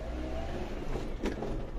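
A 2007 Maruti Versa/Eeco running on CNG pulls away in first gear, a quiet, steady engine drone heard from inside the cabin with a faint rise partway through.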